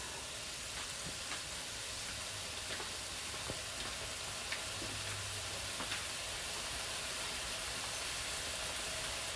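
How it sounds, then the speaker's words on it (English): Chopped half of a small onion frying in a pan beside turkey, a faint, steady hiss of sizzling with scattered light crackles throughout, quiet and even, with no speech. "let me put my onions in now"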